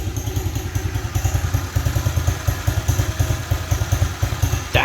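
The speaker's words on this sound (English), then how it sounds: "That has to be the quietest motor I ever heard in my life." An SSR 110 or 125 pit bike engine idles steadily after a kickstart with the choke on, a low, even, quiet putter with light mechanical clatter, close by and continuous with no talking.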